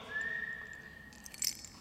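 A person whistles one sustained, slightly rising note as a game signal, clear and fairly quiet, followed by faint scuffing and a few small knocks.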